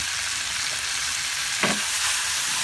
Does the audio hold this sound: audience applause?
no